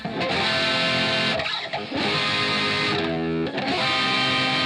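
Distorted electric guitar chords including the third, strummed in short phrases with brief pauses between them, loud and upfront with no voices.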